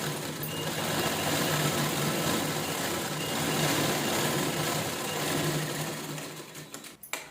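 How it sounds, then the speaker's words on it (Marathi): A sewing machine runs continuously and close, stitching an old saree fabric cover near a zipper with a steady whirring hum, then slows and stops with a few clicks at the end. "पण मी आतल्या साईडला दाब शिलाई देणार आहे."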